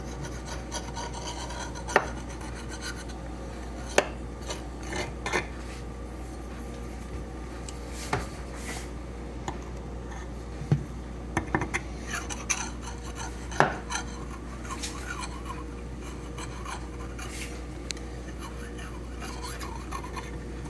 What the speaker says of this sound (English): Now I'm going to take a knife and kind of even it up all the way around.